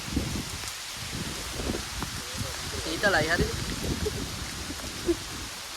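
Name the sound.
heavy rain falling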